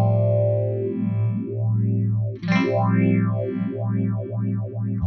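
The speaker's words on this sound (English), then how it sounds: "Now let's activate the color and check how it changes the sound." Electro-Harmonix Small Stone Nano phaser pedal with its color switch engaged, a loud sustained tone swept by a sweeping phaser, with a quick pluck midway and the sweep speeding up afterward.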